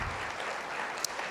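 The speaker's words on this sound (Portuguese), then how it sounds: "Você pode aplaudir o Senhor Jesus mais uma vez?" A church congregation applauding, a steady wash of clapping from many hands at moderate distance with a faint murmur of voices and one sharp click near the end.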